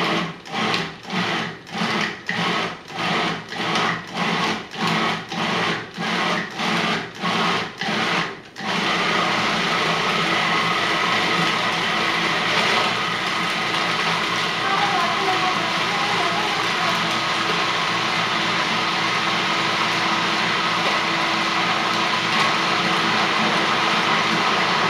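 A blender or food processor pulses about a dozen times in quick short bursts while making no-bean hummus, then runs continuously at a steady loud whir.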